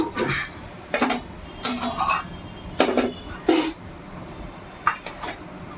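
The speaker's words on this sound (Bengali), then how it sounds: "আর এই যে আমি এখন ভাত বেড়ে নিচ্ছি" Rice served onto a plate for a simple home lunch, with several sharp clinks and clatters of dishes and a serving spoon in separate bursts, close by over a quiet room.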